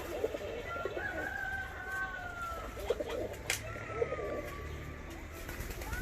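Fancy pigeons, including Russian Volski birds, cooing inside a coop on a hot day, soft repeated coos and a few faint crowing calls over a low, steady background, with brief sharp knocks.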